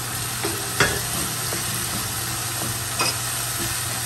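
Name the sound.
spices frying in a pan for butter chicken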